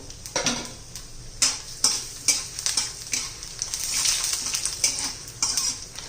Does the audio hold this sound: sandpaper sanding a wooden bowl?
no